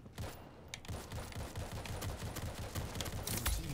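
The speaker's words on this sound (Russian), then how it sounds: "Там кто-то стреляет сверху." Rapid, dense gunfire in the zombie shooter World War Z, a continuous fusillade of overlapping shots coming from above, loud and busy throughout.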